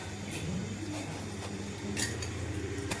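Spoon clinking against a pot while salt is added to water for soaking peas, a few light metallic taps and clinks over a steady low hum.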